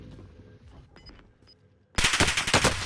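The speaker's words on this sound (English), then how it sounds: "We're taking fire!" Gunfire from Call of Duty: Modern Warfare on the Fortune's Keep map, in a duo match, erupts suddenly after a quiet stretch: a loud, close, rapid burst of shots that fills the final second.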